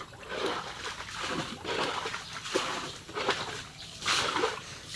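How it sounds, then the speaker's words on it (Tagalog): Water from a swollen river splashes and sloshes in uneven surges, loud close-up bursts rising and falling every second or so with no talk. "Sobrang laki po ng ilog ngayon."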